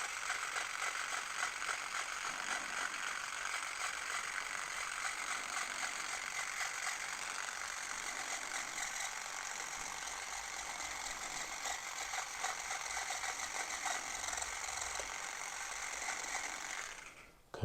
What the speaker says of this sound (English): You see your lock forming with the Klixer Dreadlock Machine.